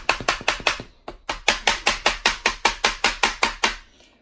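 A soft tip hammer pounds on an M2HB .50 cal machine gun part during disassembly, about fourteen crisp, evenly spaced blows with a brief pause after the first four, close and loud.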